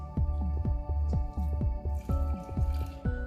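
A whisk or spoon beats thin crepe batter with water in a bowl, giving quick rhythmic wet squishing strokes, loud and close, with no talking.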